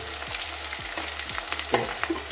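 Chicken pieces and green chillies fry in a pan for a chilli chicken dish, giving a steady close sizzle with repeated scraping stirs of a spoon at a regular pace, and no talk.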